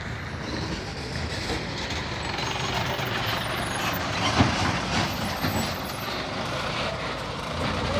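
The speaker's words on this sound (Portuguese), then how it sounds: "quando o ônibus passa por aqui" A heavy bus rolls along a pothole-damaged city avenue in Montes Claros, a loud continuous rumble of engine and road noise with a single sharp jolt midway, heard nearby without talk.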